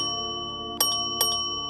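A notification bell sound effect: two bright, short metallic dings about half a second apart over a faint steady tonal background.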